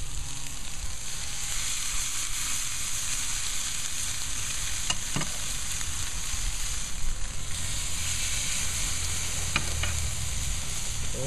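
Pork loin chops sizzle on a grill preheated to about 500 degrees Fahrenheit, a steady close crackling hiss with a few sharp pops and clicks, and no one talking.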